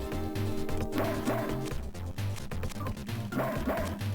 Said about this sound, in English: I'm a carefree stray dog.